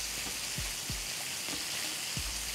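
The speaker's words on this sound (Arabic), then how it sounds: "ده الصوص بتاعنا جاهز، نقلبه." Sauce sizzling and frying in a pan with steady crackle, while a spoon stirs it through a few soft scraping strokes, close and moderately loud, with no voices.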